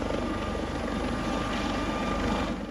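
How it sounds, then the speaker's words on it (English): Coast Guard rescue helicopter in the virtual world Second Life hovering over water near a ship, a steady loud rotor thump and engine drone filling the whole stretch without a break. "the rescue pilot positions the helicopter above the water to lower the rescue swimmer"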